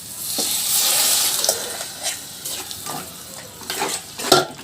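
Goat blood frying with softened onions in a pan, giving a loud close sizzle and wet stirring scrapes that come in short irregular bursts, with no talk.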